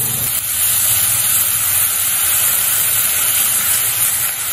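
Fine ground onion paste hits hot frying spices in a pan, setting off a loud, steady, continuous sizzle and hiss for a Bengali-style bhetki fish kalia.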